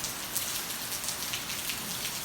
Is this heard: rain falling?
yes